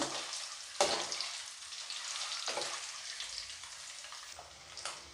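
Eggs fry in a small amount of oil for an egg curry, giving a steady close sizzle with a few sharper crackling bursts and no talk.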